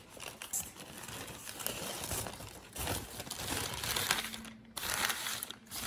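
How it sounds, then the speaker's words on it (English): A paper wrapper crinkles and crumples close up as it is peeled off a pressed Pu-erh tea cake, in irregular rustling bursts with brief pauses. "So let's unwrap the tea cake."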